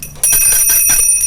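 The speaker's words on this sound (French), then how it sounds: "Ils n'entendent point et ma sonnette ne fait pas assez de bruit." A small bell rings in rapid bursts, a bright metallic jangle repeating several times close by with no voices.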